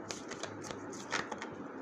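Tarot cards being shuffled by hand, a string of soft papery riffles and taps close up, with no talking over them.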